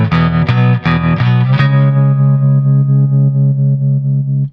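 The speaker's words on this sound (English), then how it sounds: "the only other thing I want to mention is the tremolo on the amp" Electric guitar through an amp with tremolo, playing chords: a few choppy strummed chords give way to one sustained chord whose pulsing tremolo throbs steadily as it rings out, with no talk.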